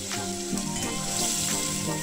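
Burnt cumin-ginger paste goes into onion paste frying in oil for a Bengali tel koi fish curry, giving a steady close sizzle with a soft stirring scrape and no talking.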